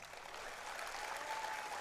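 A crowd at a political rally claps steadily for nearly two seconds, a dense, even wash of applause heard at moderate distance without speech.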